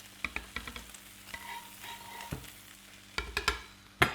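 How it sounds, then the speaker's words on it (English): Homemade halloumi cheese fries and sizzles in a pan, close and moderately loud. Clattering bursts of stirring and scraping come in uneven clusters, and no one speaks. "it's just making a load of burnt cheese in my pan."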